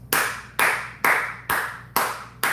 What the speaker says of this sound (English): but I gotta clap for that.